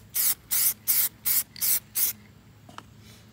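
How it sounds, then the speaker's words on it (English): Six quick bursts of spray paint hiss in an even rhythm as a second coat goes on, close and crisp, each burst about a quarter second long, followed by a faint click and quiet. "let's go ahead and spray the second coat"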